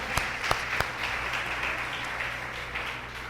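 A church congregation applauds during a sermon, a broad, steady patter of many hands with a few sharper claps standing out early on, moderately loud throughout.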